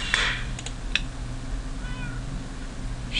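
A black cat pet in Minecraft meows in short, clear bursts, one at the start and one at the end, with a few soft clicks in between over a steady game background.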